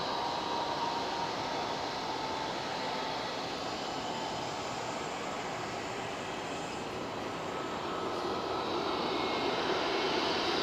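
An airliner departs Geneva Airport, its jet engines giving a broad, steady roar that holds loud and continuous throughout with no voices.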